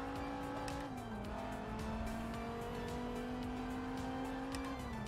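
A race car engine in Forza Motorsport 7 holds full throttle with a steady, droning whine that dips briefly in pitch once, then climbs and sustains evenly throughout.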